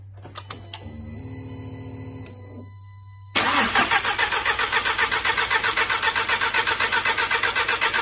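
A 2.0 TSI car engine cranks on the starter with its ignition coils unplugged, so it never fires. A rapid, steady whirring churn starts partway through and continues loudly to the end, after a quieter stretch with a low hum and clicks.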